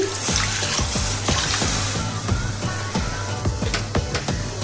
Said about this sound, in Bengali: দিয়ে দেবো কিছুটা পানি